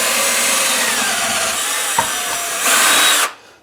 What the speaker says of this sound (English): So what I'm doing is drilling this